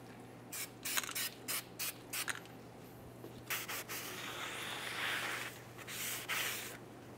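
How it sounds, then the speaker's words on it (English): Cleaning spray hisses onto a brake rotor from a 1998-2011 Ford Ranger rear brake job in several short bursts, followed by a longer stretch of wiping and rubbing, close up over a steady low hum. "Let's clean up our brake rotor."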